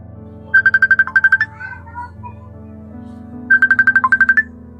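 A mobile phone ringtone plays loud and close, two bursts of rapid repeated electronic beeps with a softer melodic phrase in between, over a low background hum.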